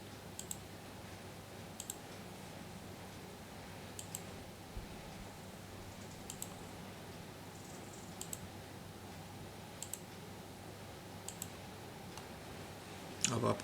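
Sharp mouse clicks on a computer while right-clicking the desktop, about eight evenly spaced faint clicks over a steady hum, with a louder cluster of clicks at the end.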